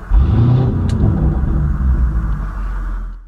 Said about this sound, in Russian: если сейчас ее завести, то запуск будет громким